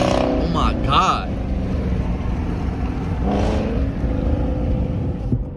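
Dodge Charger Scat Pack engine revving and droning steadily from outside the car, with a couple of sharper throttle blips, while people talk loudly over it.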